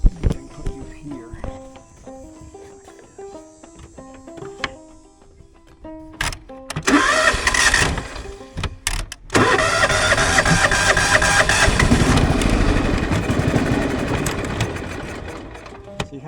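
A John Deere GT 275 lawn tractor engine, run with the choke pulled fully on, cranks briefly and then catches into a loud, rough, steady running roar close by.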